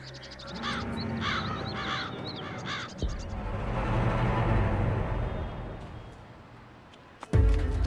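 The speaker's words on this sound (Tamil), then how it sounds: "காக்கா சத்தம்னா எனக்கு ரொம்ப பிடிக்கும்." Crows caw in a short run of harsh, repeated calls at the start, followed by a rushing outdoor background with passing traffic and a sudden knock near the end.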